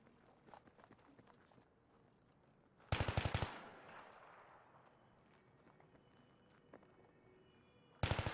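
Gunfire in a multiplayer shooting video game, rendered as two sharp, loud bursts, one in the middle and another at the very end, over quieter background game sounds and faint scattered noises.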